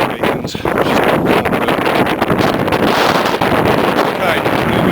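Steady gusting wind buffets the microphone on a hillside in the Brecon mountains, a loud continuous roar with brief dips, no other clear sounds.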